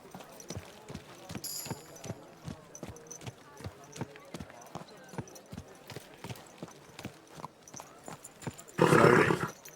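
Steady clip-clop of horse hooves trots along in a quick even rhythm, ending with a loud burst of noise near the end, from the video game Kingdom Come: Deliverance II.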